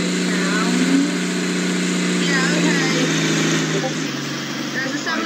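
A train engine hums and drones steadily in the Roblox railway game Stepford County Railway, a low continuous running tone at moderate loudness with voices talking over it.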